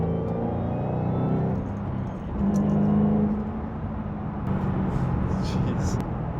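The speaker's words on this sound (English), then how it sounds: "The whining of that supercharger." A supercharged 2007 Ford Mustang Shelby GT500 accelerates in second gear. Its supercharger whines over a deep, steady engine rumble, and the sound swells loudly partway through from inside the car.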